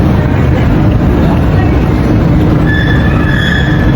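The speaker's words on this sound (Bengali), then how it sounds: "আর দেখুন এখানে একটা ছোট বাচ্চাদের ট্রেন যাচ্ছে কি সুন্দর করে।" A small children's ride train runs past inside the Jamuna Future Park shopping mall, a loud, steady rumble of wheels with thin metallic squeals rising near the end.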